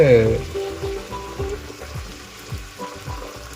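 A mixture of ginger-garlic, tomato and onion hits a simmering tribal-style mud crab curry with a loud, steady sizzle and bubbling frying hiss that continues throughout.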